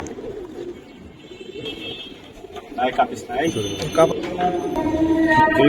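Dragon breed pigeons coo in a loft, soft repeated throaty calls rising and growing louder toward the end, with other birds faintly chirping in the background.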